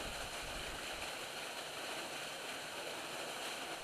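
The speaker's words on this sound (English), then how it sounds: "you can hear the water, but you can't see it." Water flowing unseen somewhere in the valley below a Blue Mountains lookout gives a faint, steady broadband rush that stays constant and distant throughout, with no voices.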